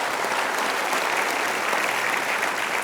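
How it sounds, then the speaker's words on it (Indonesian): A seated audience gives steady, dense applause at a talk on advancing the nation, a close, continuous wash of clapping with no voices over it. "Kita berikan aplaus dulu dah."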